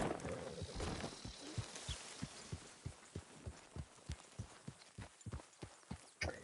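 A horse's hooves clip-clop at a steady walking rhythm, close and clear, with a low rumble of movement underneath and no talking.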